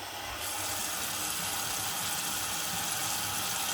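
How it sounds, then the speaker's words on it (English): Water runs steadily into a cooking pot to cover the food, a soft continuous splashing and rushing hiss, close but fairly quiet, with no talk over it. "I'm going to go ahead and really cover it with water."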